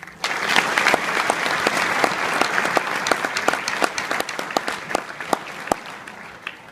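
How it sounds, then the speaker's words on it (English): A round of applause from the audience at a Marine SNCO Academy graduation, dense clapping that starts quickly and holds steady and fairly close for several seconds, with sharp individual claps standing out. "Please join me in a round of applause for our appreciation."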